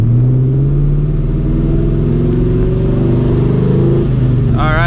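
A supercharged New Edge Mustang GT fitted with long tube headers idles steadily, its deep, even rumble close and constant throughout, with a brief voice creeping in right at the end.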